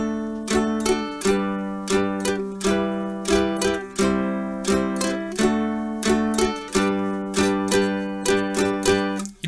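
Ukulele strumming a song refrain, chords played alone in a steady run of quick, bright strums with fast eighth-note changes and nothing else heard.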